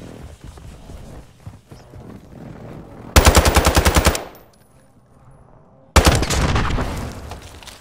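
Video game gunfire bursts out as a loud, rapid automatic volley lasting about a second, followed by a quieter lull and then a second dense, sustained stretch of shooting near the end, with softer game noise beneath.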